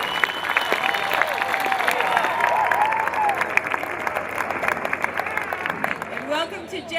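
Applause from an outdoor concert audience at Jetty's Beach, Nantucket, during an orchestra performance. The clapping is dense and sustained for several seconds, loud and close, with scattered cheers, and it thins a little toward the end.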